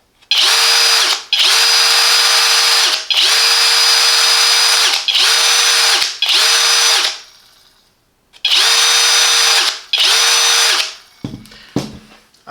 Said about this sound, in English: when I'm working with a power tool, when it's drilling